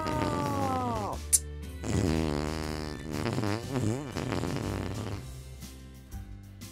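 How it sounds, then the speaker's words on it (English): Cartoon fart sound effect in a read-aloud Christmas story: a long, wobbling, bubbly blast with rising and falling pitch sweeps, following a rumbling, fizzing build-up, loud and close with no talk over it. "Fart!"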